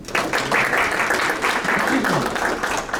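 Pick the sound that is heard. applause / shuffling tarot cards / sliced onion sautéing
applause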